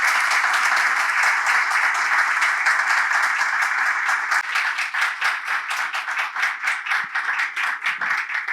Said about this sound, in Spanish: Con ese caluroso aplauso agradecemos